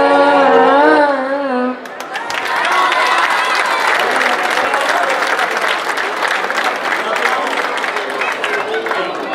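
A crowd at an outdoor song festival breaks into loud, steady applause for the singer, dense clapping sustained for several seconds after the last sung notes fade.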